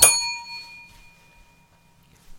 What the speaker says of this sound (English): Could you just test the bell and we'll see what happens?